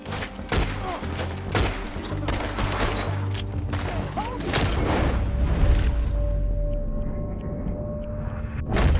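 A rapid fusillade of gunshots fills a shootout in the video game Red Dead Redemption 2. The shots are loud and dense at first, then thin into scattered single reports over rumbling ambience.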